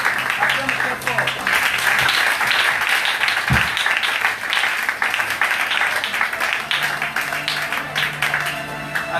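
A church congregation claps loudly and steadily to acclaim the Lord, a dense continuous roar of many hands that runs the whole time, with voices audible underneath.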